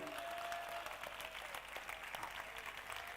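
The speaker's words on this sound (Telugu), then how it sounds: "మీ చప్పట్లు చాలా చప్పగా ఉన్నది" Thin, lackluster clapping from a church congregation at a Purim feast gathering, a faint scattered patter of hands that carries on for a few seconds at low volume.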